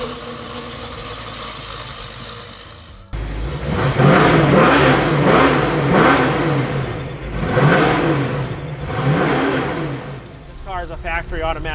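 A 1969 Ford Mustang Mach 1 with a factory three-speed automatic idles quietly, then revs hard in several rising and falling surges, loud and close, with a voice briefly audible at times.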